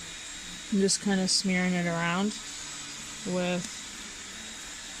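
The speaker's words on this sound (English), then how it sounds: "We have to use the shop vac to get up all the chunks of wood and bark" A steady whining shop vacuum drone, sucking up chunks of wood and bark, runs beneath a nearby voice talking over it.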